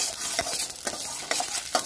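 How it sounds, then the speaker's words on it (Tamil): Close-up sizzling and crackling of mustard seeds spluttering in a hot pan, with small scattered pops and a utensil stirring now and then. "சட்டியை ஃபர்ஸ்ட் கடுகு கொஞ்சம் பொரியட்டும்"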